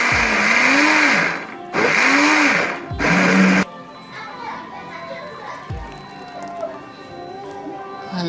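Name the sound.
kitchen blender mixing corn and macabo leaves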